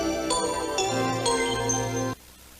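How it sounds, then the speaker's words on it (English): A bright synthesized five-note jingle from the DiC Entertainment logo plays alone, with stepped chime-like tones over a sustained chord that cuts off abruptly at the end. "Four variants have a different 5-note tune."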